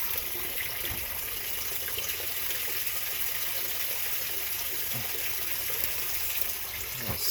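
A 2003 Whirlpool Gold Ultimate Care II direct drive washer fills with water, a steady broadband gushing rush with no pauses, moderately loud and close.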